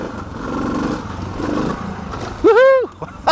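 A Suzuki DR650 dual-sport motorcycle climbs a rocky hill trail with a loud, uneven engine drone that surges and fades, followed by a rising whooping shout from a rider near the end.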